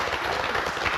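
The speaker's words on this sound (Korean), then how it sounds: "박수 좀 쳐주세요." An audience at a televised talk show breaks into a dense, steady patter of applause, filling the short moment with many hands clapping at once.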